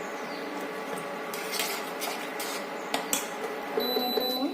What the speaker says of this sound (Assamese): আৰু এনেকৈ মই এতিয়া অকণমান হাই ফ্লেম কৰি লৰাই দিছোঁ।